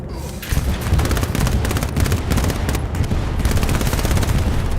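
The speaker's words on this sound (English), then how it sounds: "I'm just shooting in the general direction of the enemy" Rapid automatic gunfire in the World War II shooter Hell Let Loose on the Eastern Front: a loud, dense chatter of shots with booming reports layered over it, continuous for several seconds and close by.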